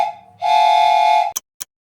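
A small 3D-printed train whistle blown close up: a soft tone, then one sustained loud shrill blast lasting about a second, followed by three short sharp puffs.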